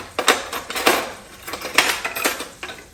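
Two forks clinking against a frying pan while walleye fillets are flipped, a quick string of bright metallic taps and scrapes over a soft sizzle, close by and without speech.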